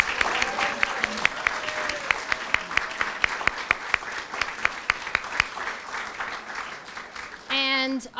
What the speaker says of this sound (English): let's just give a round of applause for all our teachers